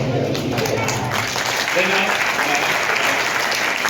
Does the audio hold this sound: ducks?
no